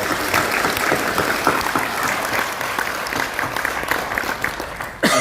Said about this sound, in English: please join me in giving another round of applause to Daisy and everyone for being here